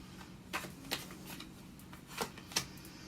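Tarot cards shuffled and drawn from the deck, a few crisp, separate riffles and snaps spread over a few seconds against a quiet room hum.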